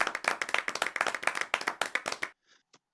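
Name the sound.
clapping sound effect added in editing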